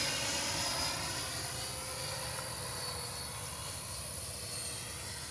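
A Freewing A-6 Intruder RC jet with an 80mm electric ducted fan whines steadily overhead on its landing approach with gear and flaps down, a smooth sustained rushing drone at moderate distance.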